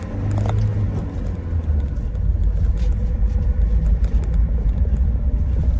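A brand-new Renault Trafic camper conversion van pulls away, its engine making a steady, loud, close rumble that holds evenly throughout with no talking.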